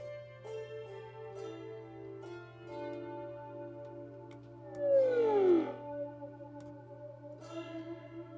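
Shimmering Oscar Schmidt Guitarophone with a wobbly chorus effect, a few plucked notes and a sliding bend midway, over a steady low hum.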